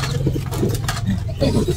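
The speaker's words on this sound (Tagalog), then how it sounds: "Kasi malaking ibon, no? Young bird pa lang." A young pigeon, a large bird set in a borrowed training box, gives a few low, soft coos close by against some background noise.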